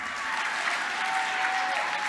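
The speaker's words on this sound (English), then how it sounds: "Give Stefan a round of applause." A short burst of steady audience applause in a gala hall, a thick, even roar of many hands clapping without a break.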